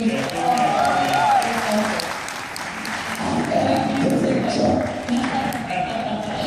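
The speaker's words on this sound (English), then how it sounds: "Can we get a round of applause for Dean?" A crowd applauds steadily, a dense wash of clapping that swells and eases, with voices mixed in.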